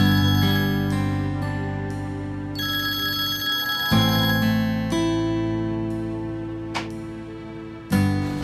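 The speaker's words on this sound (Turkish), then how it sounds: "Hadi Lale aç şu telefonu ne olur aç ya" A phone rings repeatedly in a steady electronic melody with bright sustained tones, loud and close, with no voices.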